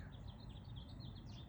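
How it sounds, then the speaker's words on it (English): Birds sing steadily in the background with repeated high, thin chirps, faint and continuous over a constant low hum. "So much bird song in the background."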